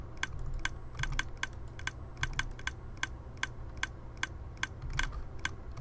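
Dense, rapid mechanical clicking and clacking runs continuously over a steady low rumble, loud and busy like machinery working nonstop.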